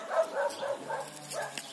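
A dog barks in a quick run of soft, fairly distant yaps, fainter outdoors on a farmstead.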